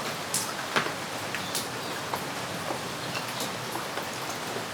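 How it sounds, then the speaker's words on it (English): Steady rain falls on a surface in a dense, even patter with scattered sharper drops, a sound effect played for stereo-to-Dolby Atmos upmixing, moderately soft and with no voices. "I've got some rain here"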